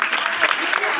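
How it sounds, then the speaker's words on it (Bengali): Audience applause for chairmen at a gathering, a dense burst of many hands clapping close and loud, mixed with voices. "প্রত্যেকটা যে চেয়ারম্যান আছে আমি তাদের জন্য বলবো একবার জোরদার হাততালি হয়ে যায়"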